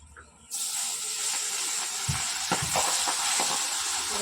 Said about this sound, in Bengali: এই পাবদা মাছ ভীষণ ফাটে, ভীষণ ফাটে পাবদা মাছ